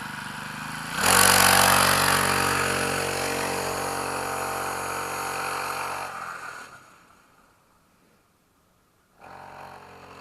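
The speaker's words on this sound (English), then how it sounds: "I'll do one more lap to kind of show you the heated up engine" A KTX mini dirt bike's warmed-up small engine, running outdoors in cold weather, revs loudly in a sustained buzzing roar, drops off to near silence, then picks up again at idle.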